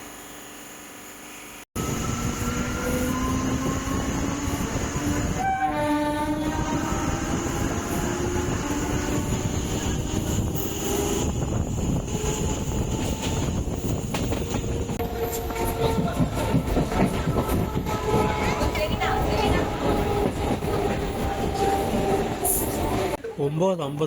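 Tirupati-Pondicherry MEMU express train running at speed, a loud continuous rumble of wheels on rails with rhythmic clickety-clack, rising motor whine and rattling carriage noise, heard from inside with steady intensity after an abrupt start.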